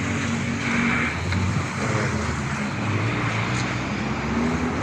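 Steady road traffic with cars driving past on a city street corner, a continuous mid-level rumble of engines and tyres that stays even throughout, with no voices.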